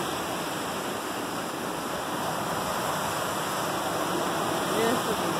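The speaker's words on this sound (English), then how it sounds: "Bigger waves coming yet." Waves break and surge steadily on the rocky Lake Superior shore near Split Rock Lighthouse, a constant broadband wash with a slight swell near the end, no clear voices.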